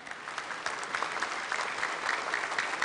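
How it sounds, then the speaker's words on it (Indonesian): A large audience at a 2019 Indonesian presidential debate applauds in a dense, steady roar of clapping that holds evenly for about three seconds with no voices heard over it. "Boleh tepuk tangan yang meriah sekarang?"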